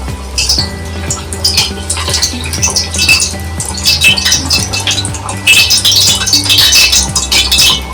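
Mixed dal vadas sizzle and crackle in hot oil in a home kitchen, with a steady bubbling hiss, frequent clinks and taps of a metal utensil against the pan, and loud busy bursts throughout.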